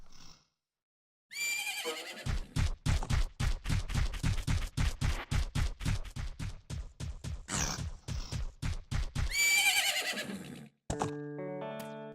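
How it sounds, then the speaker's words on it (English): In Majora's Mask, the horse Epona whinnies loudly at the start and again near the end, with a steady run of rhythmic, close hoofbeats between the neighs, followed by a short chiming game tone. "so we finally have found Epona, our horse that was lost to us"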